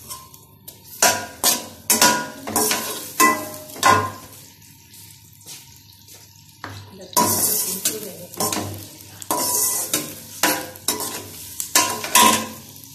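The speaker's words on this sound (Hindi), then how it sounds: "और अब मैं इसके अंदर ऑयल डाल रही हूँ और इस प्याज को हम फ्राई करेंगे।" Chopped onions fry in hot oil in a wok for vegetable pulao, a loud, steady sizzle broken by repeated rhythmic scrapes and clanks of a spoon stirring against the metal.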